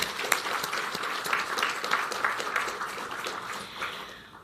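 Sustained applause fills a merit award ceremony hall, a dense, steady wash of many hands clapping that holds evenly for several seconds before thinning slightly at the end.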